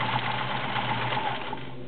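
Vintage Kenmore 1400 sewing machine stitching through six layers of denim with a size 16 needle, a steady, fast, close mechanical hum and rapid rhythmic clatter running continuously.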